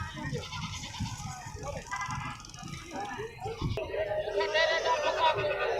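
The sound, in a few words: Barbari goat kid bleating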